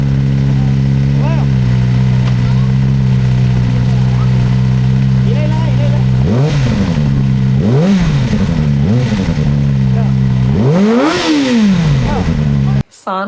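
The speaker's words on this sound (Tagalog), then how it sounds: "Ngayong saktong init na ng makina, tinawag ko sila para isa-isa silang makabomba." Kawasaki Ninja motorcycle engines idling in Cubao, then revved one after another in rising and falling blips, loud and close, the last rev longest before cutting off.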